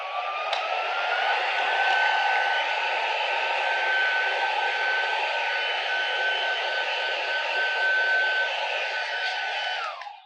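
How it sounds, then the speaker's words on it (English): Small rechargeable handheld vacuum cleaner with a little brush, charged by micro USB, running with a steady high whine and airy hiss at close range, then cutting off abruptly at the end. "this little thing right here, this little vacuum cleaner"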